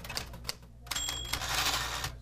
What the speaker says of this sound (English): it's the actual physical experience and hearing the typing